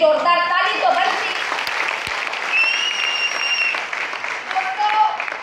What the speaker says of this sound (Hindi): तो फोल्डर के लिए एक जोरदार ताली तो बनती।